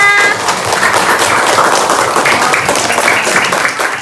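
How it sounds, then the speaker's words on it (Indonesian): Dense applause from a crowd at an academic coaching session, steady clapping filling the whole stretch with a few voices mixed in. "Tepuk tangan semuanya."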